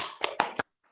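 A class claps a quick rhythmic spirit clap, three sharp unison hand strikes in fast succession, close and crisp, ending abruptly into silence.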